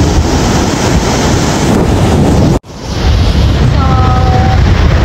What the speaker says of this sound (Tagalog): Kaso ang lakas ng alon.